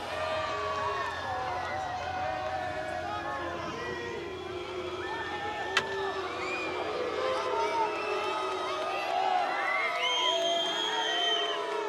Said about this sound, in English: the Spanish crowd making plenty of noise